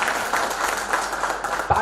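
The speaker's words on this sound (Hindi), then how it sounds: "एक बार जोरदार ताली आप अपने लिए बजाइए" An audience at a business opportunity seminar breaks into a short burst of dense clapping, fairly loud and close, with faint voices mixed in.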